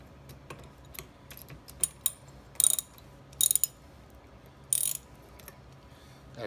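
A gator wrench ratchets as it tightens, giving a series of sharp metallic clicks and short ratcheting bursts, close and fairly quiet, with no talk.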